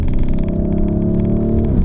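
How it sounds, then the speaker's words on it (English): A Lamborghini Urus engine breathing through an Akrapovic exhaust gives a deep, steady rumble with a throaty droning note that holds evenly for under two seconds and then dips slightly, loud and close with no voices. "the engine's fantastic, and the Acropovich exhaust system that's on this car"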